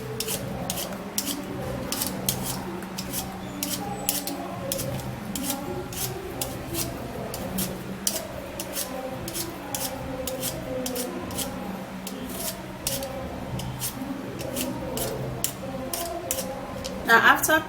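A potato is peeled up close with a blade, giving a long run of quick, evenly spaced scraping strokes that continue for the whole stretch over a steady tonal background hum.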